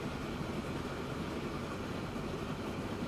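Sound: oil train passing in Transport Fever 2 video game

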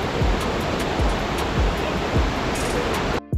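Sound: Dudhsagar waterfall in Goa

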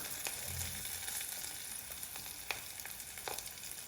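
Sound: tempering spices sizzling in hot oil

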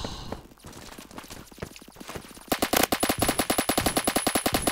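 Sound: gunfire in Roblox Phantom Forces video game

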